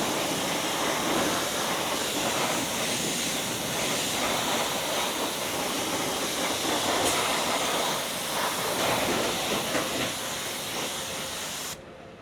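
A water spray rinses cleaner off a car wheel, making a continuous loud hiss that holds steady for about twelve seconds before cutting off abruptly near the end.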